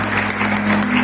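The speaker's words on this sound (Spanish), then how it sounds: "Den un fuerte aplauso a Cristo." A burst of dense, steady clapping from a church congregation fills the whole moment, loud and continuous.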